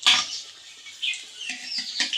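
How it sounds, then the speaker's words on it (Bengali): Besan-battered beguni (eggplant slices) frying in hot oil for iftar, close crackling and hissing sizzles rising in short bursts. "তো এই যে ইফতারি ভাজা শুরু করে দিছি।"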